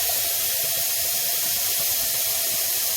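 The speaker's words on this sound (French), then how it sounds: "Je vais éteindre sur la cocotte et on va l'ouvrir. Alors, pour laisser toute la vapeur sortir." Steam hissing steadily out of a pressure cooker's whistle valve as it is opened after cooking, a constant close broadband hiss with no talk.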